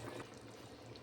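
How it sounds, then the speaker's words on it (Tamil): Jeeraga samba rice tumbles into a pot of boiling water for chicken biryani, a brief soft pouring and bubbling rustle. It is faint and short, with no voices. "இந்த சமயத்தில் நம்ம எடுத்து வச்சுருக்க அரிசியை இதில் சேர்த்துடலாம்."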